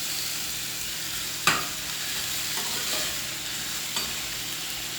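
Sweet pepper fries in a pan for saltfish patties with a constant soft sizzle, interrupted by a single sharp knock and a few fainter clinks.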